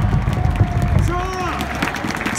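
Stadium crowd clapping and cheering at a Korean baseball game at Jamsil, a dense continuous wash of applause from many people throughout, with chanting voices and whistles mixed in.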